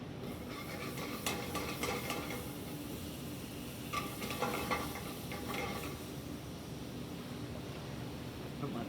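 Butter sizzles in a hot pan with a soft, continuous frying hiss, marked by a few scraping and stirring clatters early on and then settling into a quieter sizzle.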